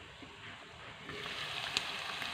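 Carrots frying in a covered pan during home cooking of spicy chicken spaghetti, a soft steady sizzle that swells slightly partway through, with a brief sharp crackle near the end and no talking.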